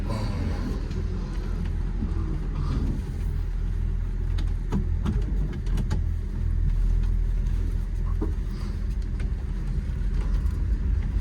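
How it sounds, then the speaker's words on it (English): A 1968 Pontiac GTO 400 four-speed convertible idling with a low, steady rumble, with brief clunks as the gearbox pops hard into gear, close and continuous with no talking. "It does pop hard into gear."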